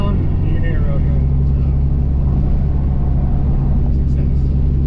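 Steady low diesel drone of a 6.7 Cummins truck with an aftermarket air intake, heard with the windows down while driving; loud, continuous rumble and road noise without pauses or speech.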